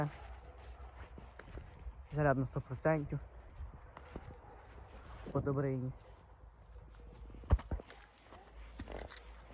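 Hooves clip-clop softly in the background as horses walk, among them a pregnant mare, while people talk over the faint, irregular steps and a horse briefly whinnies.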